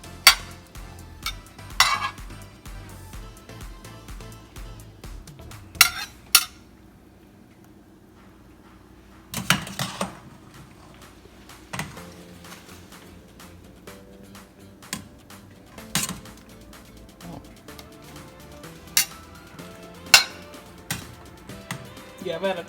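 A big metal spatula scraping and lifting layered scalloped potatoes from a baking dish, giving sporadic clinks and scrapes against the dish, close up, with quiet stretches between them and people talking.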